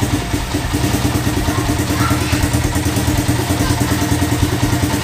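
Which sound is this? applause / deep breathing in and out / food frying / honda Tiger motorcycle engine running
honda Tiger motorcycle engine running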